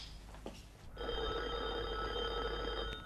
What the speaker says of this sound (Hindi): फिर फोन आ गया।